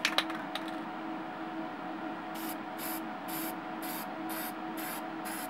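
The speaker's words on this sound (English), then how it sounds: "we are using a Krylon matte finish, and we're going to do coats that cover the whole magazines" Krylon matte clear finish coat is sprayed over rifle magazines in short bursts, about seven quick hissing pulses close by following a few clicks of the can at the start.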